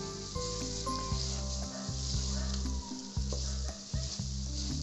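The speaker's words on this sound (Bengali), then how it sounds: "একটু ভালো মতো সবগুলো উপকরণ নেড়ে চেড়ে নিব।" Capsicum and other ingredients for chicken vegetable fried rice frying in a pan, a loud continuous sizzle with repeated scraping stirs and a steady low hum running underneath.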